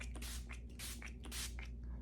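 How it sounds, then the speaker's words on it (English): Urban Decay All Nighter Setting Spray is spritzed onto a face in three short, soft hissing bursts, each a quick mist and fairly quiet, with no talking. "I'm going in with the original Urban Decay All Nighter Setting Spray"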